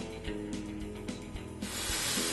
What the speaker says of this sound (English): get my hairspray so that way it stays